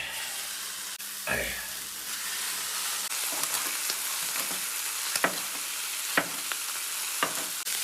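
Green peppers and onions sizzle on an iron griddle with a continuous hiss, punctuated by sharp scraping and tapping of a spatula as they are stirred, and a brief voice near the start.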